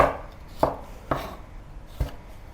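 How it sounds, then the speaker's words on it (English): A knife chops carrot into sticks on a cutting board with four distinct, evenly spaced knocks, close and clear. "And carrot, cut into small sticks or slices, is really up to you."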